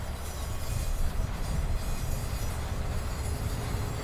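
A Canadian National freight train with a caboose rumbles past steadily with dense low-end roar and faint wheel noise, continuous and fairly close, with no voices.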